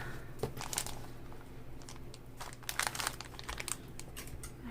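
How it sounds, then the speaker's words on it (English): Paper is pressed and smoothed down with glue for a junk journal cover, giving close, intermittent crinkling and rustling bursts over a low steady hum. "so now I'm just going to glue the rest down"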